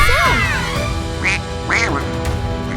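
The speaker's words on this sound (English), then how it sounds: "Oh no, it's a giant duck." A giant cartoon duck gives loud, close quacks, several honking calls in a row over a busy animated soundtrack.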